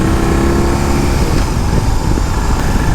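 A 2021 BMW R18 First Edition 1800cc cruiser motorcycle is ridden along a coastline, its loud, steady engine drone mixed with strong wind rush from up close.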